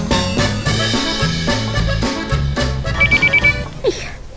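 A telephone rings in an Ilocano comedy drama, with a quick burst of bright electronic ring pulses cutting in over background music near the end.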